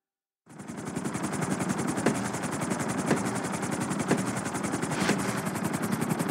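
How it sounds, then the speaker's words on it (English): Helicopter in GTA V starts up after a short silence and then holds a loud, steady rotor chop with rapid regular beating and periodic sharper thumps. "we're gonna put you in a helicopter"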